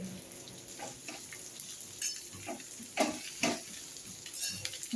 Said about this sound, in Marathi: आता टाकून घेतली हलवून घ्यायची